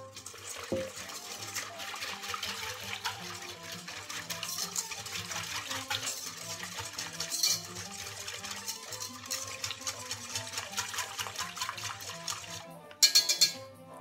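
Lukewarm water and milk pour steadily into a bowl of fine semolina for batbout flatbread dough, a soft continuous liquid trickle close by, ending with a sharp clink.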